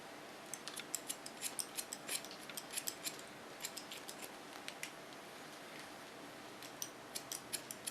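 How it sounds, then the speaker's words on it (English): A large Keone 7 hair scissor snips through hair at the sides of a man's head, giving a steady series of crisp, close metallic clicks and cuts with short pauses between bursts. "The sides are cut with a large scissor. It's a Keone 7."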